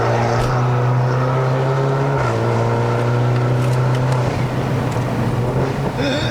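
A tuned BMW F30 320i LCI sedan with 330 hp and 480 Nm climbs a mountain road at Genting, Malaysia, heard from inside as a loud, steady engine drone that shifts in pitch partway through.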